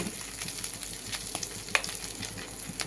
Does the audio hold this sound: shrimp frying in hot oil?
yes